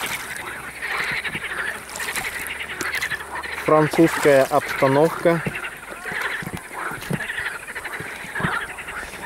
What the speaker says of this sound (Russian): Ну как, лягушки квакают